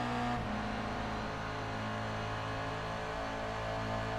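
Toyota GR86 race cars in iRacing at Phillip Island pulling onto the main straight, a steady droning engine note holding at high revs, moderately loud with no voices.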